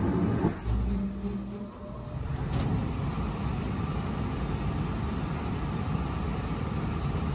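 Gas furnace with a burner that lights but won't stay on: a steady, fairly loud whooshing rumble of the blower and burning gas, with a brief dip near the start, then a constant drone to the end.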